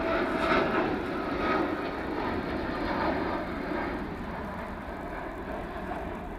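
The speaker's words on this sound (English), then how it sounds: "Lovely Qatar Dreamliner. Off to Doha." A Qatar Airways Boeing Dreamliner jet rumbles past at Manchester Airport, a loud, broad engine roar that swells at first and then slowly fades as the aircraft moves away, with no voices.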